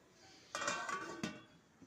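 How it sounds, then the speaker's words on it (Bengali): A metal lid set onto a cooking pot of radish and chickpea curry, a couple of faint clinks and clatters close by in an otherwise quiet kitchen. "আবার ঢাকা দিয়ে দিচ্ছি"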